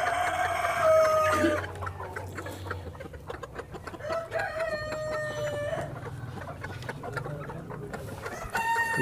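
Plymouth Rock hens cluck and squawk repeatedly nearby in a breeding setup, with a rooster's crow rising partway through, over a constant low farmyard hum.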